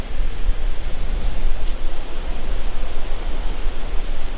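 Ocean waves break in stormy conditions, giving a loud, continuous roaring wash of surf with a heavy low rumble and no distinct individual crashes.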